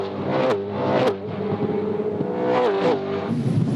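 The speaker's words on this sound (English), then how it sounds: "Is there a better sound than a V8 supercar?" Several V8 Supercar race engines roar and rev at full throttle during the 2009 Queensland 300, pitch rising and falling as they shift gears, loud and continuous with no talking.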